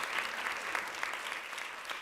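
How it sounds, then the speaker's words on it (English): Convocation audience applauding steadily, a dense wash of many hands clapping at moderate distance, fairly even throughout. "We can clap it up for workforce development."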